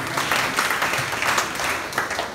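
A church congregation claps for God in a burst of dense, even applause that fills the room, loud and close, with no voice over it.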